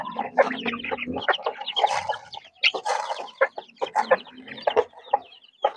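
Chickens and young chicks clucking and cheeping close by in a busy, overlapping run of calls with short pauses, no talk over them.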